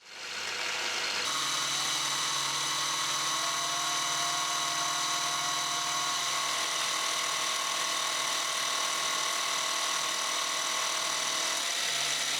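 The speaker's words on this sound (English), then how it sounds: "The rougher can take off the excess, and then the regular mill can come in and take us to size." A milling machine cuts metal for a shop-made vise stop, a steady high whine with a low hum running continuously and loud throughout, spinning up at the start and briefly changing near the end, with no talking.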